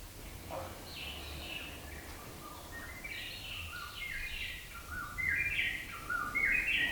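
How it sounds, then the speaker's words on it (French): Birds sing over a soft, steady outdoor background, with scattered chirps and warbling phrases that grow brighter and more frequent toward the end, with no voices. "Écoutez le chant des oiseaux."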